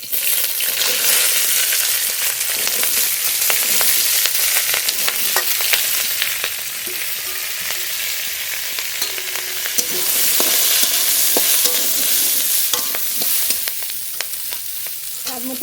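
Flat beans and onion stalks frying in a cumin tempering, a loud steady sizzle with scraping stir strokes throughout and no voices.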